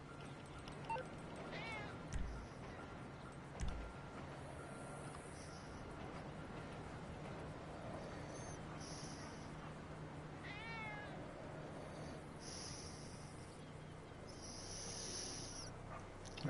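A cat meows in the video game GTA 5, with a few short, rising-and-falling cries that come and go over a steady, faint background hum.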